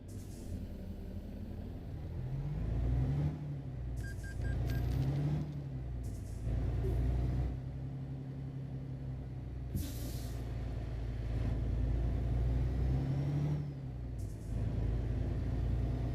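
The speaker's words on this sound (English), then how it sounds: "I am liking the sound of this truck, though." A truck engine in Euro Truck Simulator 2 rumbles deep and steady, its revs rising and falling through gear changes, with short air-brake hisses between them.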